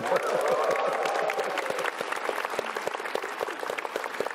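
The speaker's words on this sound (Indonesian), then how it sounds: "Sekali lagi tepuk tangan buat Pak Ahok dan Soleh Solihun." A stand-up comedy show audience claps for Ahok and comedian Soleh Solihun, a burst of loud applause that thins into scattered claps, with a host's voice and cheering mixed in early.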